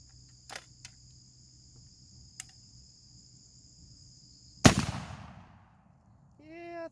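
A single loud, close 8 gauge shotgun blast at a 2 liter bottle outdoors, with a long decaying rumble after it, set against a steady drone of insects and crickets.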